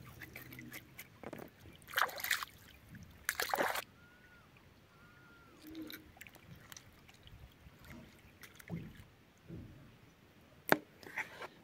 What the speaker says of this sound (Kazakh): Күздің әсем табиғаты мен судың сылдырап аққан дауысы тамаша емес пе?